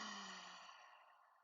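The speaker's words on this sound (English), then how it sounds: "Open mouth, exhale." A single long, soft open-mouth exhale during a vinyasa yoga flow, breathy and close, gradually fading over about a second and a half with nothing else heard.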